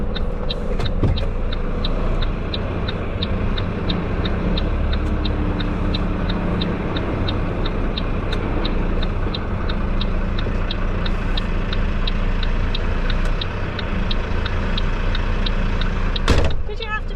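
A small lorry idles and creeps slowly in reverse through a tight gate, its low engine rumble steady while a rapid reversing beeper pulses evenly over it, ending in a sharp clunk.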